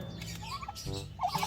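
A turkey on a backyard farm in the Philippines gives short gobbling calls over a steady low background hum, fairly close but not loud, with no talking.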